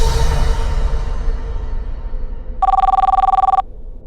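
A telephone rings indoors with one short, loud trilling burst about a second long, following a fading earlier noise and then quiet.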